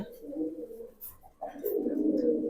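Jabra Pankhi pigeons cooing in soft, low rounded phrases close by, with a brief pause midway before a fuller, steadier cooing resumes.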